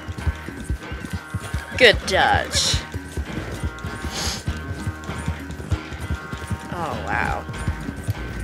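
A horse in Red Dead Redemption 2 gallops along a road, its hooves thudding in a fast, steady rhythm close by, with a snort or two while a player speaks briefly over it.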